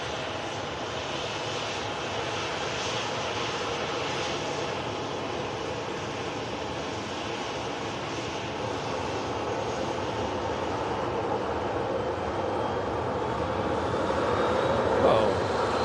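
An Emirates airliner on Flight 19 passes overhead, its engines making a steady, broad roar that holds throughout and swells slightly toward the end.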